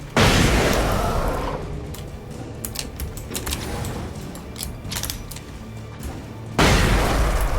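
A flashbang grenade goes off in the video game Alan Wake with a loud, broad blast, and after a quieter stretch of rattling and mechanical clatter a second heavy burst follows near the end.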